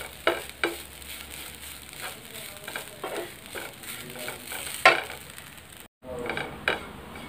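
Desiccated coconut is stirred continuously in a frying pan while homemade coconut is lightly toasted, giving a steady dry scraping and rustling with occasional louder spatula scrapes against the pan, close up and without talk.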